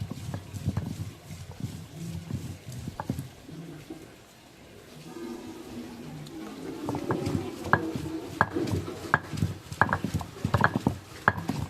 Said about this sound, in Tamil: இந்த அம்மி சட்டுன்னு அரைச்சிடுவோம்